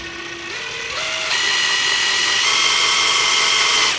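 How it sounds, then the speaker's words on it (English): A DeWalt drill with a 1/4 inch bit bores into Kydex, its motor whine stepping up in pitch over the first second, then holding a loud, steady, close drone. "Now we got out the D-walt here, 1/4 inch bit. I got a couple starting holes."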